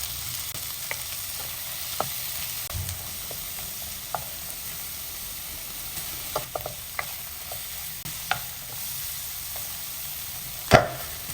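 Garlic, onion and tomato sizzle and fry steadily in a pan for a milkfish soup, with small scattered clicks and one sharper clatter near the end; no one speaks over it.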